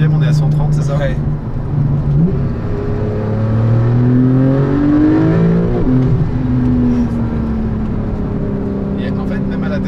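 A Porsche 911 991.2 GTS engine winds down on deceleration in the lower gears, its loud, smooth tones sliding down and swelling up again, with voices talking in the cabin.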